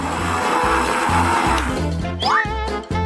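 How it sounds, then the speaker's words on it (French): A kitchen blender whirs loudly while mixing ingredients with sodium alginate, its motor pulsing in repeated bursts that rise and dip in pitch, with the whine shifting near the end. "Laisse-moi mélanger les ingrédients."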